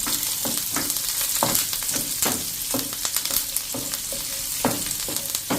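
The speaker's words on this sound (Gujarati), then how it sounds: "અને 2 લીલા મરચાં સમાર્યા છે એ એડ કરી દઈશું અને 10 થી 12 પત્તા આપણે લીમડાના નાખી દઈશું" Green chillies and curry leaves sizzle in hot oil in a pan over a medium flame, a steady frying hiss broken by sharp crackles and pops as they hit the oil, close and fairly loud with no talking.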